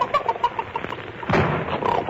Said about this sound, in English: I slammed the door.